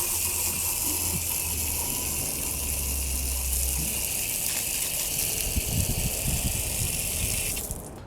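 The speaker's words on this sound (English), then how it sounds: "all that there's left to do is to rinse it off." Water from a hose sprays steadily onto a car wheel being rinsed after cleaning, a constant close gushing hiss with a low hum early on, cutting off at the end.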